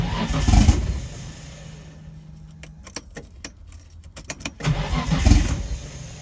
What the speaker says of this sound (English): Starts then dies.